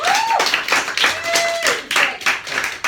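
Audience clapping at an educational presentation, a scattered run of hand claps over about three seconds with a faint tone sliding through and some background voices.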